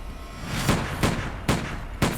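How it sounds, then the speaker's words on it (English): Four sharp gunshot blasts ring out at night in a cold, empty parking lot, evenly spaced and loud, each a sudden crack with a brief decaying tail. "4 gunshot blasts ended her life."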